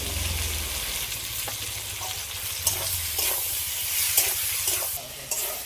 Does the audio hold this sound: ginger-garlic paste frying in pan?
yes